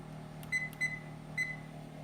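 A kitchen timer is set for cooking a beef brisket roast, giving three short, high electronic beeps close by over a low, steady background hum.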